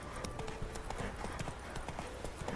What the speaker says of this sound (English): Okay, horse's out of stamina, so let's just trot along here.